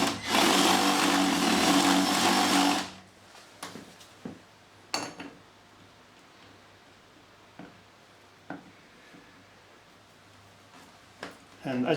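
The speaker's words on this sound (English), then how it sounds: "I'm just going to make that elongated using the step drill" A step drill bit enlarging a hole in a UPVC door roars loudly for about three seconds, then stops, leaving a few light clicks and knocks of handling nearby.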